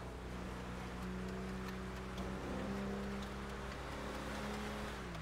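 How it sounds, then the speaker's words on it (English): Engine of an M1114 up-armored Humvee driven in GTA 5, a steady low droning hum with sustained harmonic tones that shift slightly in pitch, continuous and fairly quiet with no voices. "I like how the engine sounds."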